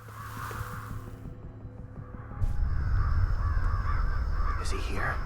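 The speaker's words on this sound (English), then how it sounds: "A lot of birds surrounding whatever that is over there." Crows caw in the video game Ghostwire: Tokyo, a few harsh calls heard over a low ambient game drone that thickens into a rumbling bed midway, with a person talking over it.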